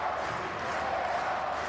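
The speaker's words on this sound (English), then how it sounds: "Just listen to that crowd. They're on their feet in Treviso." A rugby stadium crowd in Treviso roars and cheers for Benetton against Cardiff Blues, a dense, steady wall of many voices that stays loud and unbroken throughout.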